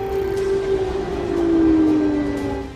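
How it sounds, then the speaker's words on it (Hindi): A steady wailing air raid siren blares across Ukraine, one long sustained tone that slowly bends in pitch, loud and continuous throughout, with no voices over it. "यूक्रेन में अब बस सायरन ही चारों तरफ बज रहा है"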